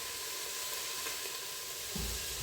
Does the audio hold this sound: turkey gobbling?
no